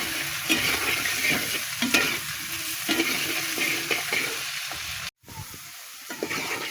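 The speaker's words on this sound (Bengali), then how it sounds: "আলুটা সুন্দর করে লাল লাল করে ভেজে নিলাম" Potatoes frying in a pan with cumin, salt and turmeric, a steady close sizzle broken by the scrape of stirring, with a brief drop out near the end.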